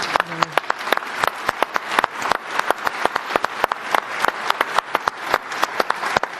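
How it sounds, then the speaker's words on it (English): Applause breaks out for Pope Leo XIV at a World Food Day event, loud individual hand claps standing out sharply over a thinner crowd clapping bed, with a brief voice near the start. "Let us give His Holiness a round of applause."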